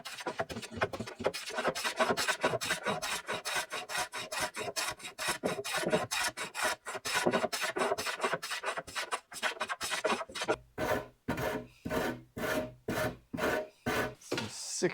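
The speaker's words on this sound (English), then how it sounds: "60 grit sandpaper." Hand sanding with 60 grit sandpaper rounds a wooden bookcase edge, a fast continuous rasping that shifts partway through into distinct, separated back-and-forth strokes, close and clear with no voices.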